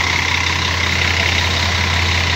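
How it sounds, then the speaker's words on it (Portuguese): A large festival sound-truck (trio elétrico) engine idles steadily nearby, a constant loud low rumble with a steady hum and no talk over it. "Excelente caminhão, beleza. Motor possante."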